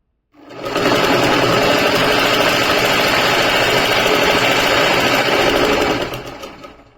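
A sewing machine stitches a lined suit, running in one loud, steady, close-up burst for about five seconds before winding down to a stop, with no talking.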